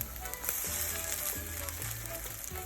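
Keto French toast sticks sizzle and fry in a pan, a steady close crackle with a few soft stirring or turning sounds, no talking.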